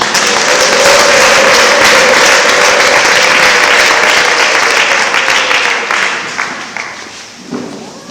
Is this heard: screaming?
no